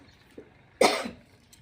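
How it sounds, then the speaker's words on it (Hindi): A woman gives one short, sharp cough, close and fairly loud, after a faint small sound and followed by quiet. "खांसी बहुत ज़्यादा आ रहा था।"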